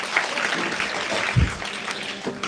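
Audience applause at a North Karnataka comedy and mimicry show, a brief burst of crowd clapping at moderate volume with one soft thump partway through.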